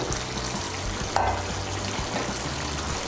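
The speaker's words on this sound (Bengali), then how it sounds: "1 ছোট চামচ ঘি দিচ্ছি।" Ghee goes into a pan of sizzling cauliflower curry seasoned with garam masala, a steady close frying hiss with a few soft stirring scrapes and a brief brighter crackle as the fat hits.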